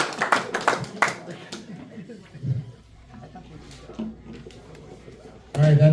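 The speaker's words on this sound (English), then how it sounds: "Let's clap" A small group clapping at a monthly base meeting in a few brief, scattered bursts of handclaps between stretches of talk, with a louder burst near the end.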